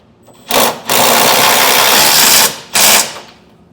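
A power tool drives 3/4 inch socket bolts on a B&W Turnoverball underbed gooseneck hitch in a 2023 Ford: a loud whirring burst, a brief pause, a long sustained run, then a final short burst, close up.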